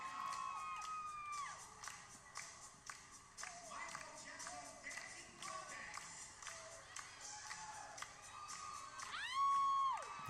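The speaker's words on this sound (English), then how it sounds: "It's my wife cheering me on." A wife cheers at a resort's dancing contest, with shrill whoops and shouts rising over a noisy crowd and music, the loudest yell near the end.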